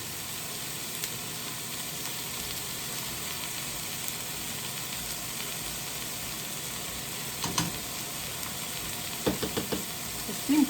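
Chili seasoned with chili powder steams and sizzles in a pot, a loud continuous hiss with a few knocks and stirring scrapes near the end.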